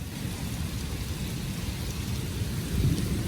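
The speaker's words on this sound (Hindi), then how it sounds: "इतनी बारिश हो गई है।" Heavy rain pours down over Lahore in a dense, steady roar, with a low rumble beneath the constant wash of drops and no voices.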